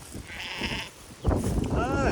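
Sheep bleat close by on a farm pasture, with a few wavering calls breaking through a person talking.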